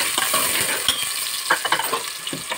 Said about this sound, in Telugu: ఆయిల్ హీట్ అయినండి ఆనియన్ ని పచ్చిమిర్చి వేస్తున్నాం